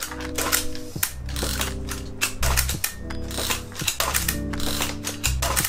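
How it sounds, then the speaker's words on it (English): A medium format film camera shutter fires repeatedly at varying speeds, each release a loud, close mechanical clack with whirring, ratcheting gear noise between shots. "That's the shutter going off."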